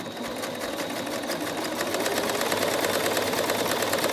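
A sewing machine stitches through folded, pre-ironed fabric in a fast, continuous rapid clatter, close and loud, with no voices during the run.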